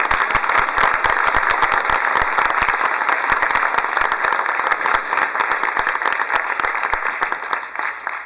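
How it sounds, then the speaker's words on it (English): Members of the Florida House of Representatives applaud Jared Moskowitz and his father in the chamber, a loud, close, sustained burst of many clapping hands with distinct individual claps cutting through the crowd sound. "A round of applause for these two."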